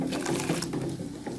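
Green tea stirred into water in a pot over medium heat for Kashmiri chai, a brief close swirl and slosh of liquid.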